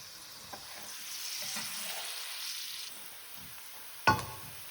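Steady sizzle of meat with rosemary frying in olive oil in a pan for a ragù alla bolognese, a soft continuous hiss ending in a sudden louder clatter and splash.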